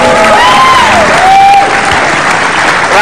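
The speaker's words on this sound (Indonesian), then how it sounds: "Wow, tepuk tangan tuh Pak Wito." Studio audience applauding on the Indonesian TV talk show Bukan Empat Mata, a steady, loud wash of clapping with a host's voice speaking over it.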